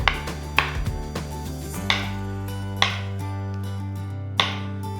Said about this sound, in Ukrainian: Зараз нарізаю банани.